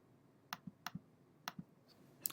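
A few sharp clicks spaced out at an irregular pace, keys being pressed one at a time on a computer keyboard, in an otherwise quiet room.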